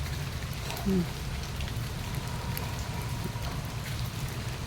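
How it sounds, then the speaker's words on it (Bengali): Heavy rain pours steadily on a village house work site, a dense, even hiss of drops on surfaces with no pauses, a brief low tone sounding once early on. "দেখতে পাচ্ছেন বৃষ্টির যা অবস্থা হয়েছে"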